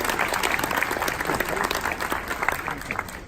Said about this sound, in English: Give yourself a round of applause for surviving.